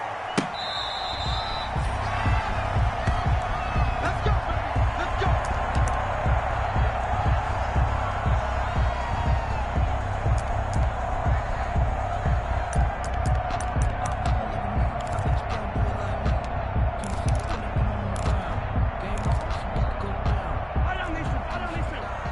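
Stadium crowd in a Madden football video game before a Denver Broncos versus Kansas City Chiefs matchup, a steady roaring crowd bed with rhythmic thumps and claps throughout, under a commentator's voice.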